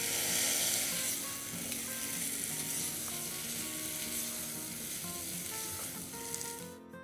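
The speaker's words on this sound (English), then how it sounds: "Now we add in the pumpkin." Pumpkin pieces sizzle and fry steadily in a pan with ginger and garlic, a continuous crackling hiss at close range with light scraping and clinking from stirring, no voices.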